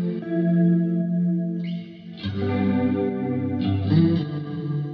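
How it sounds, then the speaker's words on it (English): Electric guitar run through an RC-20 Retro Color plugin on its Flux Chorus preset plays sustained chords, with a wobbling, warbly chorus shimmer, light grit and a wash of echo, loud and close with no talk. "That's the RC-20 device on my electric guitar."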